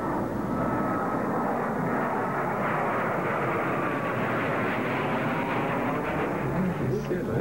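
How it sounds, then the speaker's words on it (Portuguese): An airplane roars steadily at takeoff power, a loud, continuous broadband engine rush with a faint whine running through it, holding at an even level throughout. "Rick 35 já está em posição e liberado para decolagem."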